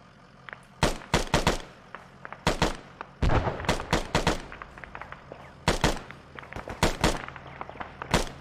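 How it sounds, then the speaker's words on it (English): Sharp gunshots in the military shooter Arma 3 ring out in scattered single cracks and short bursts, moderately close against quiet gaps, with no talk over them. "Who are you shooting at?"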